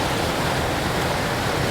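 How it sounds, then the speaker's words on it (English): A creek's river rushes loudly and continuously, a dense, close, steady roar of water with no voices. "I really hope you can hear me over this deafening river"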